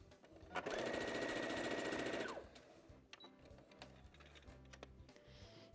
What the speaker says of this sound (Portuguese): Ali eu vou passar a minha costurinha aqui